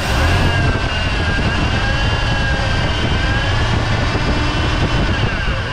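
The engine of an old wrecked vehicle, left sitting for twenty years, runs steadily with a loud continuous whine and rushing roar from the power steering pump, unbroken throughout with no talk.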